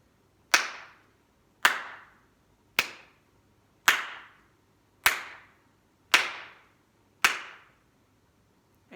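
Seven sharp hand claps evenly spaced about a second apart in a classroom counting game, each crisp and close with a short room echo and near silence between.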